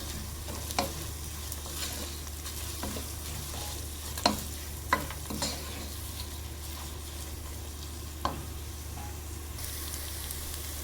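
Onions and slit green chilies fry in a pan with a constant close sizzle, broken by a few sharp spatters or stirring knocks. No one speaks.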